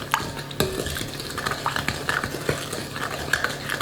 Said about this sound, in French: À la cuillère en bois, je vais venir mélanger 100 g de sucre.